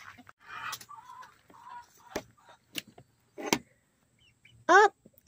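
A hen clucks and squawks after laying an egg in a homestead coop, a series of short close calls ending in a loud, rising cackle, with quiet gaps between bursts.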